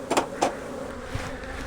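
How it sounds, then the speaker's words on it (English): Honey bees buzz steadily around an open beehive during a hive split, a dense continuous hum with a few brief knocks near the start. "We're getting a lot of bees in the air."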